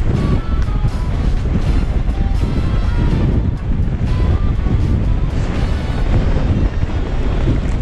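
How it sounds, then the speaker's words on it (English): Strong, gusty wind roars steadily across an exposed mountain ridge in the Black Mountains, buffeting the microphone with a continuous loud rush and no talking. "Bloody hell, that wind is absolutely ridiculous."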